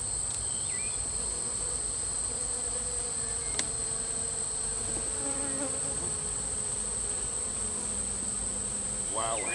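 Honey bees buzz steadily around an open hive while brood frames are lifted and inspected, a dense continuous insect drone close by with occasional brief scrapes and clicks, no talking.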